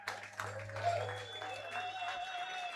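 Audience applause at a live country and western concert, a short burst of clapping from a modest crowd, fairly soft, with a host speaking over it and some instrumental sound lingering.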